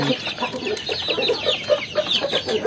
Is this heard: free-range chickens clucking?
yes